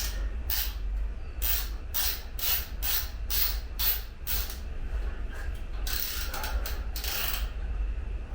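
A hand ratchet tightens bolts while a Screamin' Eagle Heavy Breather Elite air cleaner is installed, clicking in steady repeated strokes with brief pauses, close and clear with no talk.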